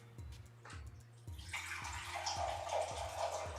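Filtered water pours steadily in a kitchen, a broad rushing stream beginning partway through after a few soft knocks, with a low repeating thump underneath.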